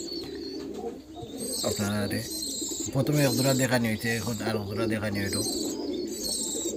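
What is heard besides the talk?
giribaz desi pigeons cooing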